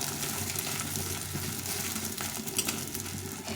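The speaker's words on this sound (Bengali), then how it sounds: "যে মুড়ি নিয়েছি এখন আমি এভাবে ভেজে নিলাম" Puffed rice frying dry in a pan gives a steady, close crackling hiss with faint scraping, continuous and even in level throughout.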